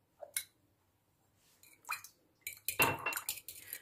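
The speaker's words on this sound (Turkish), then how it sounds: "Bir çatal yardımıyla şöyle karıştırıyorum." A fork stirs yogurt in a bowl, giving a few soft, wet squishes and light clinks against the bowl, quiet and close, in short bursts separated by silence.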